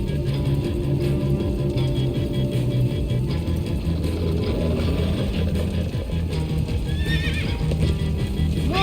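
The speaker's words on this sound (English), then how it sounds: "Slow down, horse!" A horse whinnies several times over steady clip-clopping hooves and a dense, continuous background in Minecraft: Story Mode, with the whinnies loud and close.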